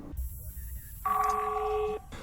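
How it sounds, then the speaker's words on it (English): A telephone rings in the Danish crime thriller The Guilty, set at an emergency services desk, with a single clear electronic ring tone lasting about a second against quiet room noise. "The movie starts with a call ringing"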